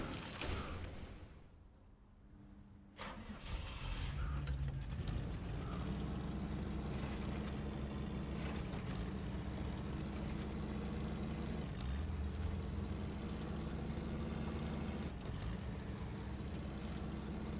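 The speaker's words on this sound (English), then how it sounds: "See what the engine does." The upgraded truck engine in the SnowRunner video game starts with a few clunks and then settles into a steady, loud, low rumble that fills the rest of the clip without a break.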